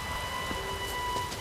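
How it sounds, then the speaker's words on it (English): Steady rain falling in a dark fantasy game setting, a soft continuous patter with a few sharper drops, fairly quiet and uninterrupted. "I love the rain."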